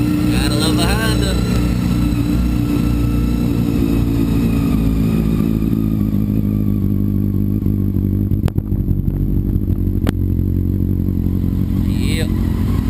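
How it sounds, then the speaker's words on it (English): Honda motorcycle cold starting and settling into a steady, loud idle close by, its low engine drone continuous throughout with a couple of sharp clicks near the end, while a person talks over it. "See if the bike will start up. Yeah, gotta love a Honda."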